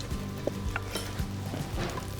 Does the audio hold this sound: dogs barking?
no